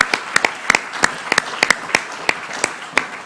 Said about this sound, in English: Give her an applause while she comes up.